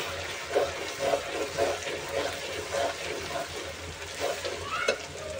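Duck curry frying in a pan with turmeric, salt and chilli is stirred in a steady rhythm, each scrape bringing a burst of close sizzling over a constant frying hiss.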